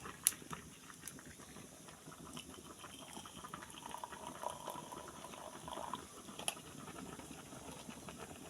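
Water runs and patters into a pot of rice, a soft, steady liquid wash heard faintly and continuously with a few small clinks, and no voices.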